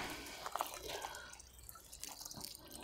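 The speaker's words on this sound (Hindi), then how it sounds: "ये चली गई अपनी मोटर पानी के अंदर।" Kirloskar submersible motor pump lowered into a water well, soft dripping and splashing water with a few brief plops, faint and close, no voices.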